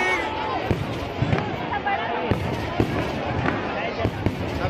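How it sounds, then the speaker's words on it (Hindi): Firecrackers bursting at a Dussehra Ravan Dahan effigy burning, sharp scattered bangs popping every second or so over a constant crowd murmur and nearby voices. "अभी वो लाइट उठ रहा था ना, वो जलाया था बम पटाखा, अब जला देगा।"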